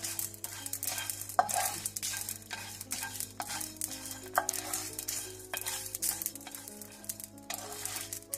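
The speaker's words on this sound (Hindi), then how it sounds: "उसमें ये सारे खुश्क मसाले आप भून लें।" Dry whole spices toasting in a hot frying pan for gola kebab, with repeated scraping stirs and light sizzling, soft and close, and no voices.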